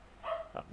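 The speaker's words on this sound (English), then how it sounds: "That is my dog barking in the background" A dog barks faintly in the background, a couple of short, distant yips within under a second, with no talk over them.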